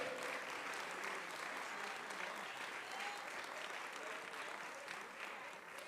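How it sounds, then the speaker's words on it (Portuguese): A church congregation applauding, a continuous even wash of many hands clapping at a moderate distance, steady throughout with faint voices mixed in. "Glória, você quer aplaudir? Aplauda ao Senhor."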